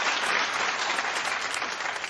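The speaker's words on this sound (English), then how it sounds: "Keep clapping for Amanda Bynes." Studio audience at a daytime television talk show applauding steadily, a dense, loud wash of clapping with no voices over it.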